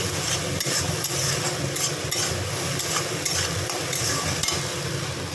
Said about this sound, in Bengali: এবার ভালো করে মশলাটা কষিয়ে নিচ্ছি